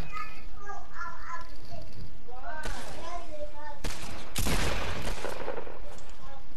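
In the video game Rust, a heavy shotgun fires amid other gunfire, loud bursts and rapid shots crowding the latter half, with excited voices talking over the action.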